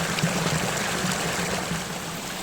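Stream water at Hin Lad Waterfall on Koh Samui, Thailand, a steady close rushing and trickling flow that continues without a break.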